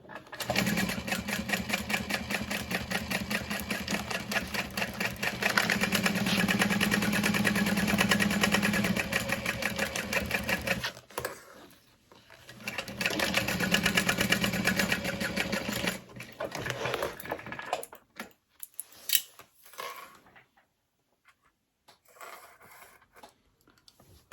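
A sewing machine top stitches a tote bag in long, steady runs of fast needle chatter, with a short pause midway. It ends with scattered, quieter bursts and stops.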